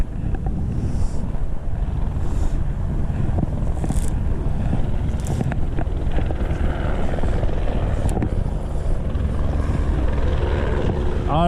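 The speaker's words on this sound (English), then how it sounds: "it was neat seeing the helicopter at first, but now he's like flying around" A helicopter circles low overhead, its steady thudding rotor roar loud and continuous throughout with wind buffeting the microphone.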